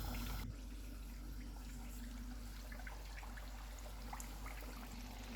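Potato samosas dropped into hot oil on a lowered stove flame, giving a steady, continuous sizzle and bubbling that stays close and even throughout, with no talking.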